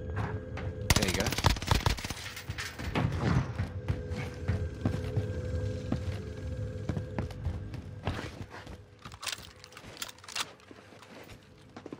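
Rapid automatic gunfire bursts in the video game Call of Duty Warzone, loud and near, crackling in repeated volleys across the whole stretch with scattered single shots, while players talk excitedly over it.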